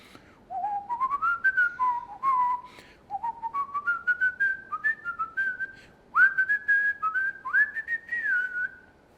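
A person whistles a lively tune alone, a run of rising slides and short held notes in phrases with brief pauses between them, close and clear.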